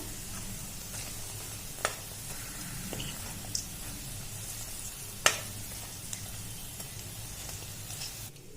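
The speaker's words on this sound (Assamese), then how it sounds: "বৰাকেইটা মই ভাজি আছোঁ।" Lentil fritters (bora) frying in hot oil, a steady close sizzle and crackle that runs throughout, broken by a few light clicks and taps from the pan.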